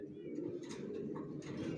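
Racing pigeons coo steadily in a loft in a low, throaty chorus, several birds overlapping close by with a continuous murmuring hum and no talking.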